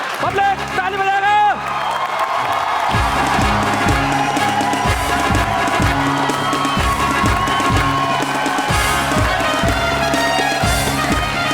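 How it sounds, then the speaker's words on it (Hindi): A large Hindi stage-show audience bursts into loud, sustained clapping mixed with cheers and whoops, rhythmic hand claps thudding steadily for several seconds after a brief voice at the start. "पब्लिक ताली बजाएगा।"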